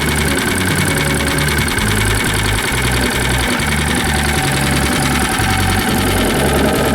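A homemade 79cc motorized bicycle engine idles steadily with a muffler fitted, giving a close, even, rapid chugging putter with a faint mechanical whine and no voices over it.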